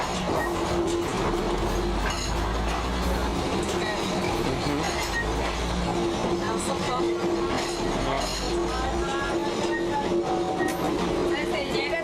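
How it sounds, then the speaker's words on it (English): A train rumbles through a busy Thai marketplace with a continuous heavy clatter and rolling rumble that holds steady throughout, close and loud, with a faint tonal whine and scattered crowd noise woven into it. "forcing vendors to scramble as trains barrel through every couple of hours"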